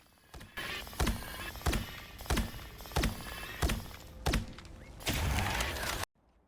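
In Marvel Rivals, Rocket's bouncing healing projectiles give a rhythmic series of bright, punchy thunks about every two-thirds of a second, loud and close, ending in a longer whooshing burst before sudden silence.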